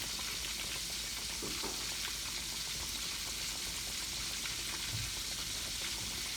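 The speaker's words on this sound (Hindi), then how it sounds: "बटर को अच्छे तरीके से गरम करना है आपने फ्राई पैन में और फिर आपने इसमें बर्गर डालने हैं।" A crispy zinger-style chicken burger fries in butter in a frying pan, giving a steady, even hiss of sizzling that stays constant and fairly quiet throughout, with no voices.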